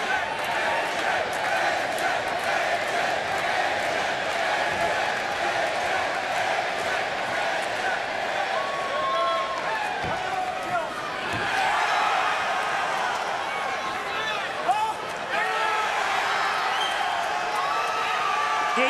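A wrestling arena crowd at TNA Bound for Glory 2011 during an I Quit match, cheering and roaring steadily throughout with occasional louder swells, while commentators talk over the noise.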